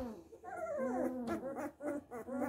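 An 11-day-old Bernese Mountain Dog puppy whimpers close up in a run of high, wavering whines and short yelps, quiet and alone.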